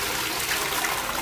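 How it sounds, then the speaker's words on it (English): A 1970s high-level lever toilet in public toilets flushing, a brief loud rush of gushing water heard up close. "That flush just went there."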